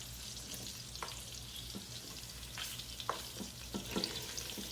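Meat sizzles in oil in a pan while cooking chili, with a steady quiet crackle broken by scattered sharper pops and occasional stirring scrapes, close and with no talk.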